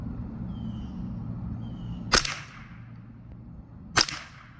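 .22 LR rifle fired twice at a range, two sharp, loud close cracks about two seconds apart over a steady low background hum.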